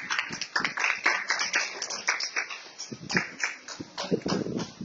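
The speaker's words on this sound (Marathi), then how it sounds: "क्लॅप करा, टाळ्या वाजवा" An audience watching students demonstrate mallakhamb claps in an uneven, scattered patter of hand claps that swells and fades over several seconds.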